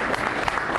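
A short stretch of audience applause during a card magic act, dense crowd clapping heard steadily and at moderate loudness.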